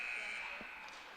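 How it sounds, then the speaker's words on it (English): A buzzer sounds at a youth blind ice hockey tournament game, a steady sustained electronic tone held through the whole moment, loud over arena noise and faint crowd and voices. "And with the buzzer, we'll get the change"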